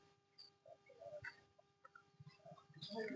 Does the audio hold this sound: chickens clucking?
yes